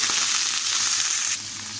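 Liver frying in two large spoonfuls of hot oil on a heated tawa, a loud, close, dense crackling sizzle that holds steady and then eases slightly, with no voices.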